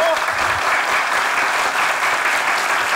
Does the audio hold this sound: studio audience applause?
yes